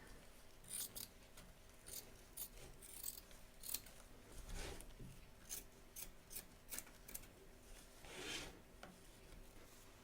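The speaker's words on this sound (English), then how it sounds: "Trim away the excess batting from around the edge of the stitch line" Scissors snip away excess batting around an appliqué stitch line in an embroidery hoop, giving a string of short, crisp cuts at an irregular pace, close and fairly quiet, with no talk.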